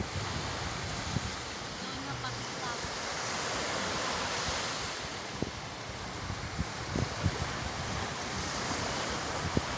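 Ocean surf rolls steadily over a coastline while strong wind buffets the microphone, creating a continuous roar with occasional gusty bumps.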